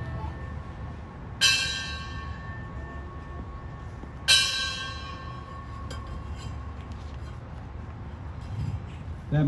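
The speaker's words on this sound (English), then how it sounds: "put this in service with the bells" A ceremonial bell is struck twice, several seconds apart, at a fire rescue push-back ceremony for a new ladder truck. Each strike rings out loudly and decays slowly over a low outdoor rumble.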